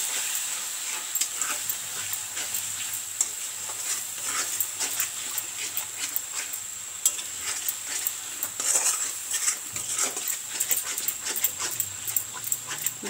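Chicken fries with Maggi masala in a kadai, giving a steady hissing sizzle with frequent stirring scrapes and clicks throughout, close and even in level, with no one talking.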